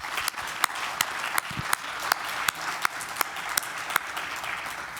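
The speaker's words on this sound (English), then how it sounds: "Let's give them another round of applause." An audience at a university health and human services research day applauds its lightning-talk speakers, with a steady wash of applause and sharper individual claps popping out at intervals throughout.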